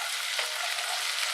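Broccoli soup cooking on a stove, giving a steady, dense hiss of sizzling with no voices.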